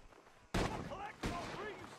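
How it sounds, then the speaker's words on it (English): Two sharp gunshots from the video game Red Dead Redemption 2, about half a second apart, each a sudden loud blast trailing into reverberant noise with faint game sounds behind. "The gunshot!"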